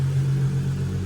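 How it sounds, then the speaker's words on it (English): A Holden VY Calais drift car fitted with a swapped L67 supercharged engine sits idling, a steady low rumble with a strong constant hum, close and even throughout without any revving. "It's been idling, yeah, for a good 15 minutes."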